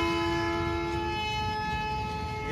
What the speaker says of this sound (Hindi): पे हॉर्न बजाया जा रहा है।